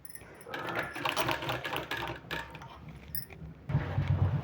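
A sewing machine stitches a sleeve in quick, uneven rattling bursts, fairly quiet and close, with a low thumping run near the end and no speech.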